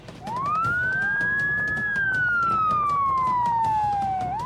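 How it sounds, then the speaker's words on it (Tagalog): Fire truck sirens wail through city streets during an early-morning motorcade in Iloilo City, one long rising and falling tone plus fainter overlapping sirens, loud and steady over traffic rumble. "Ginpukaw na sang sirena sa mga fire truck ang mga residente sa isa ka motorcade nga ginpatigayon sa mga dalanon sa syudad."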